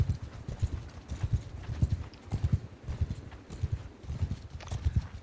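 Horses walk in the Mount & Blade Bannerlord video game, hooves clip-clopping in a steady rhythmic pattern at moderate volume with no talk over them.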